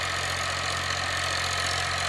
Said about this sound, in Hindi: देखो टीलर भी सही खींच रहा है और ट्रैक्टर लोड नहीं मान रहा